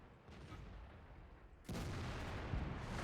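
IS-6 heavy tank main gun firing in the World of Tanks video game: a single loud, broad blast that stays sustained after the shot, over lower rumbling background noise.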